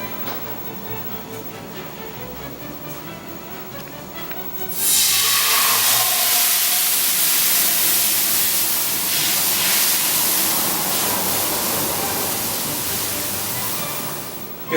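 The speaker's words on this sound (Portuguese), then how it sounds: "Frigideira quente, vou jogar um pouco de vinho tinto para deglaciar toda a panela" Red wine hits a hot pan to deglaze it after searing filet mignon, setting off a sudden loud, steady sizzling hiss that follows a quiet start and holds for about ten seconds, then eases slightly.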